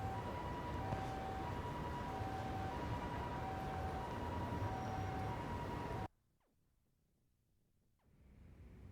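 In the video game Lost Judgment, a siren wails in a steady repeating rise-and-fall pattern over background hum for about six seconds, then cuts off abruptly into near silence with a few faint clicks.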